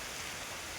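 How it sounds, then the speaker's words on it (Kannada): Heavy rain pours steadily near a small iron bridge beside a lotus lake in Coorg, giving a close, dense, unbroken hiss with no voices. "ಮಳೆ ತುಂಬ ಬರ್ತೈತೆ"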